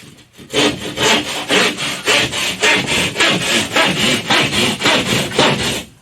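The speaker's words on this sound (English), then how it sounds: "So I will use a saw to cut up this edge along this stud." A hand saw rasps through drywall in steady, rhythmic strokes, about three per second, loud and close with no talking.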